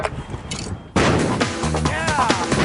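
A wrong mixture explodes during a MythBusters test, a sudden loud blast after quieter background noise, followed by a rumbling, ringing aftermath.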